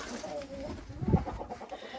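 Hens in a poultry run cluck in a steady, close mix, with a louder flurry of clucking around the middle and a voice faintly present in the background.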